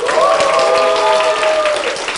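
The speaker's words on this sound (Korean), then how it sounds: "여러분들 환호성도 질러주시고 박수도 크게 쳐주시면 감사하겠습니다" A crowd at a Korean meet-and-greet for successful applicants claps and cheers in a loud, continuous wash, with a sustained shout riding over the applause throughout.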